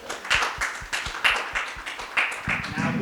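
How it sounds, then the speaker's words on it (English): Applause from a conference audience at a FinTech event, heard as a few scattered, separate claps that form an irregular patter, with voices alongside. "A big round of applause for Safa as well."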